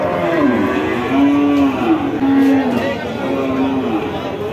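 Cattle low with several deep, drawn-out moos at a busy cattle market in Sharsha, Jessore, where dairy cows with calves are sold, close and loud over a steady background of crowd murmur.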